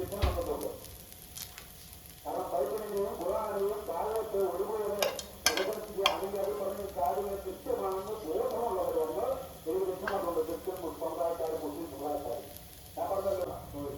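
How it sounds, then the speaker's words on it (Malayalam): Ghee hits a masala dosa on a hot pan and keeps up a steady sizzle, with a few sharp clicks and a voice talking over it. "അതിലേക്ക് നമുക്കൊരല്പം നെയ്യ് ഒഴിച്ചു കൊടുക്കാം"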